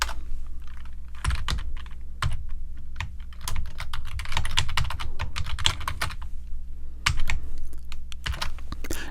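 Code being typed on a computer keyboard, a close run of clicking keystrokes in uneven bursts with occasional louder key hits, no talk.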